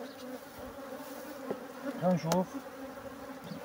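Honey bees buzzing at an opened hive in an apiary treated for varroa, a continuous soft hum with a few louder bees passing close, under brief quiet speech.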